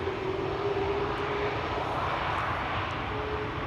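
A Lufthansa airliner on flight 989 to Frankfurt at Schiphol Airport gives a steady, even engine roar that holds at one level throughout, with no voices.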